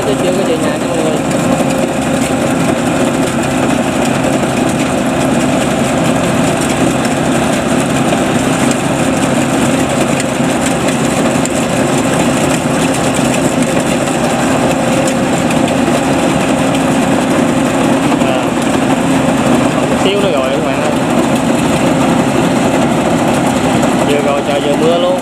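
The engine of a homemade Vietnamese rice combine harvester drones continuously and loudly at close range, a steady buzzing whine that holds without pause for the whole stretch.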